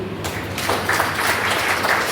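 Audience clapping at the opening ceremony of the Tamil Madhuram literary society, a brief burst of applause rising in after a short moment and continuing steadily through the clip.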